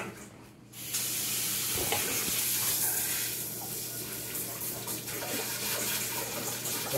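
Water runs hard from a kitchen tap into a sink, starting abruptly after a brief quiet moment and then pouring steadily with a bright, splashing hiss, loud and close, with no talk over it.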